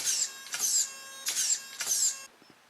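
An RC servo on a Vaterra Ascender crawler whirs noisily as it turns the wheels, giving four sharp, high-pitched mechanical bursts in a steady back-and-forth rhythm, then going quiet.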